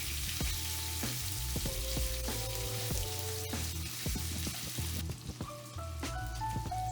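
Pork pieces sear in hot oil in a pan for a Vietnamese braise, a dense crackling sizzle like light rain with occasional sharp pops and utensil taps, fading slightly near the end.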